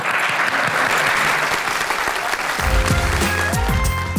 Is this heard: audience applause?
yes